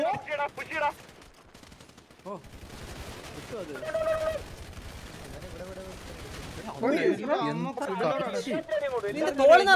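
Rapid bursts of video game gunfire crackle in the background while voices talk loudly over them, near and animated.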